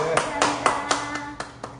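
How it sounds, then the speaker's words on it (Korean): A few people clap in a slow, even rhythm, about seven crisp claps over a steady background hum. "우리 사장님한테 박수 한번 보내주십시오."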